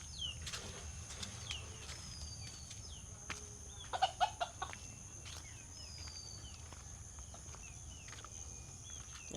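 Backyard chickens and their chicks cluck and peep faintly at a distance, with a short burst of louder clucks midway, over a quiet rural background of insects.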